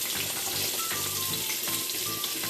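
Onions and green chillies frying in a pan, a steady dense sizzle running throughout with faint clinks and watery crackles, close and continuous.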